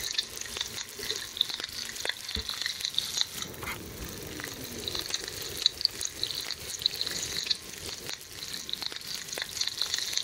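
Rabbit meat fries in the survival video game The Long Dark, a steady crackling sizzle with scattered pops running throughout at moderate, even loudness, with no voices.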